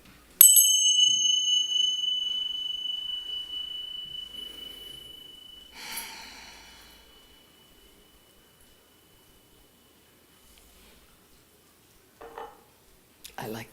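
Chimes ring with a clear, bright tone that slowly fades over several seconds, followed by a second softer strike and a few faint clinks.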